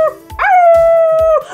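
A dog gives a drawn-out, howling bark outdoors: a few short yelping onsets, then a long sustained cry, loud and close, with no talking.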